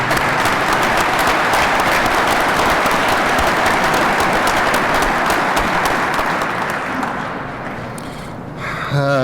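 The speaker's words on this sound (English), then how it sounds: "So a round of applause for all of our new record holders." Loud sustained applause from an audience at a state police recruit graduation, dense clapping that holds steady, then tapers slightly near the end.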